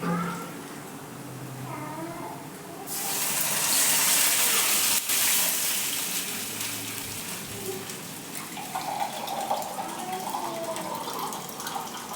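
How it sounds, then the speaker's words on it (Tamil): Water is poured into a cooking pot in a home kitchen, a loud gushing stream starting partway through and running for several seconds, with a cat meowing nearby before and after. "தண்ணி ஊற்றிக்கலாம்."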